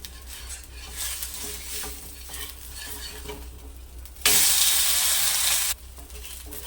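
Rava dosa sizzles on a hot pan as it is flipped. A steady low frying crackle gives way to a sudden loud, bright burst of sizzle lasting about a second and a half, which then drops back. No talking.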